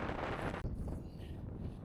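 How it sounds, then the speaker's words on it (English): Wind buffets the microphone in a steady low rumble, loud and close, on the Isle of Eday in Scotland's Orkney Islands, with a brief dropout partway through before the gusting resumes. "it's kind of windy up here"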